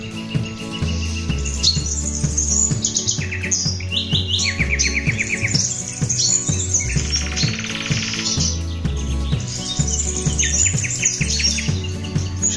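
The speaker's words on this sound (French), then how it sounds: "Écoutez les oiseaux." Birds chirp and sing in rapid, overlapping bursts beside Lac du Salagou, close and bright, with a busy repeating chorus and no voices.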